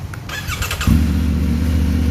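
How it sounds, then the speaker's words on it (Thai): A Triumph Tiger 900 GT Pro motorcycle with a loud Akrapovic exhaust fires up after a brief rattle, settling into a deep, throaty, steady idle close by. "คันนี้เสียงจะโหดโหดนิดนึงนะครับเพราะเราใส่ท่ออะคาพูบิกนะครับ"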